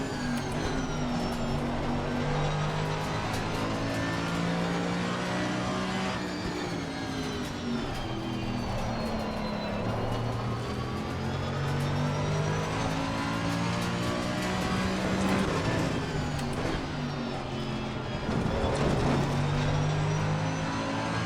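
Race car engines roar continuously in Assetto Corsa Competizione, revving up and down through gear changes with other cars close by, loud and steady throughout.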